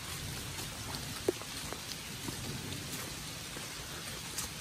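Rain falling steadily in a hill forest in Đồng Nai, a soft even hiss with a few scattered drips standing out, fairly faint and with no voices.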